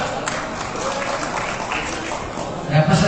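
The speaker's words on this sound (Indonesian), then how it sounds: "Tepuk tangan juga." Audience applause at a football association congress ceremony, a dense, steady wash of clapping from a large crowd under an announcer's voice.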